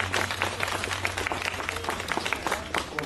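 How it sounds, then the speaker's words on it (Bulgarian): Audience applause at a Museum Night event, a crowd clapping in a brisk, uneven patter with steady density over a low background hum. "Моля, аплодисменти за тях."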